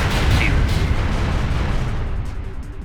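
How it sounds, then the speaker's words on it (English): Heavy rumbling blast of an orbital particle beam cannon strike in the One Must Fall Battlegrounds video game, a loud sustained boom that slowly fades over a few seconds. "they shoot a particle beam cannon down onto you"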